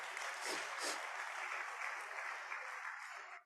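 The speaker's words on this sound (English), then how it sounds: "Please give him another round of applause." Guests at an 80th birthday celebration applaud the honoree, a dense wash of clapping from a sizeable gathering heard at a distance, steady and then tapering off at the end.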